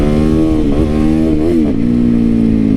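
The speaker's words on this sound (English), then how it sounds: "Having a good old time out here on my Supermoto." Supermoto motorcycle engine revving on public streets, close and loud, with a few quick throttle blips that rise and fall in pitch before settling into a steady idle-like drone.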